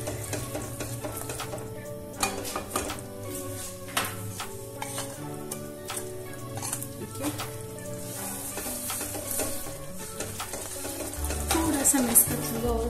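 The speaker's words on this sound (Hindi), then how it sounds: "थोड़ा थोड़ा करके इसे ऐड करें और मिक्स इसे आप करते रहें" Coconut barfi mixture with milk powder being stirred in a pan over a low flame, giving continuous scraping and a soft sizzle with frequent small clinks that grow louder toward the end, with no talking.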